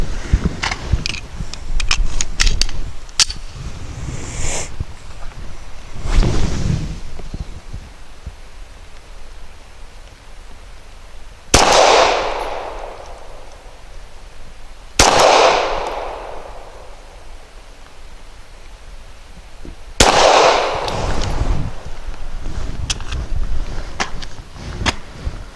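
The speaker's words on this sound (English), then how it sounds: "For target number 9, I'll be using the S&B tactical ammo." A CZ P10C pistol fires S&B 140 grain subsonic ammunition in three sharp, evenly spaced shots at an outdoor range, each a crisp crack with a short decaying tail, following a few earlier handling clicks and rustles.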